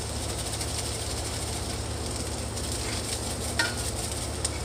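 Hamburger meat frying with bell pepper in a pan, a steady close sizzle with constant crackling hiss and a low background hum throughout, no talking.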